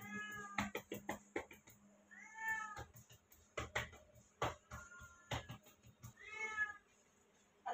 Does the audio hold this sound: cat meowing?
yes